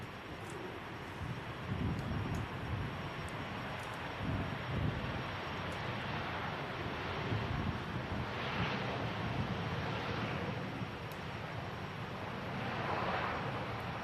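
A Ryanair UK airliner arriving from Oslo at Manchester Airport makes a low, distant jet roar that swells and fades under gusty wind noise on the microphone.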